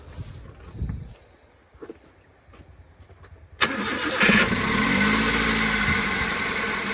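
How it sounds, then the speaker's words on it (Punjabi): A Toyota Etios Liva engine cranks in neutral and catches partway through, then settles into a steady idle after a few quiet knocks and shuffles. "ਬਿਲਕੁਲ ਨਾਰਮਲੀ ਸਟਾਰਟਿੰਗ ਹੈ ਗੱਡੀ ਦੀ"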